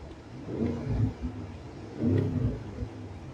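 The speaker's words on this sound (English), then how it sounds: "You can turn on that exhaust" Two deep, throaty engine rumbles from a 2024 Range Rover Sport SV Edition One swell and fade, a low burbling exhaust revving twice with a short pause between, close by.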